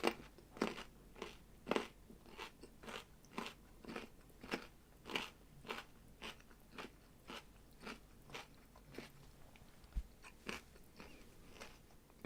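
Someone chewing cucumber close to the mic, a steady series of crisp crunchy bites roughly every half second over about twelve seconds, with no talking.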